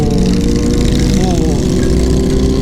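A Harley motorcycle engine idles loudly and steadily, a deep rumbling throb that continues throughout.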